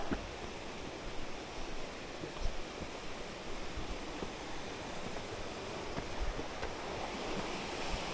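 A small waterfall on a low-running river pours with a steady, broad rushing wash close by, even and continuous with slight swells, and no voices.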